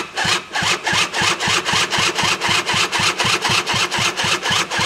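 A two-stroke engine is cranked to start, giving a fast, regular chugging of rapid pulses with no pause, loud and close throughout, and it does not catch.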